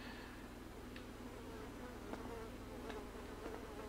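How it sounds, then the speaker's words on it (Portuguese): Flies buzzing in the video game GTA V, several faint whining passes over a steady low game-engine hum, with no talk. "Nossa, cheio das moscas aqui"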